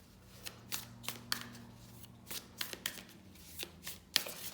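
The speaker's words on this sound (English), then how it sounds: "I'll just get a Moonology Oracle card to tie off the reading" Moonology Oracle cards being shuffled by hand, a series of crisp riffling and slapping bursts spaced irregularly, close and fairly quiet, with no talking.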